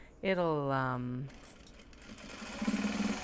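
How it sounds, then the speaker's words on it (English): A sewing machine stitches leather and speeds up as the foot pedal is pressed, a brief buzzing whir that starts right after a short spoken phrase. "if I just press the like foot pedal and make the machine go faster"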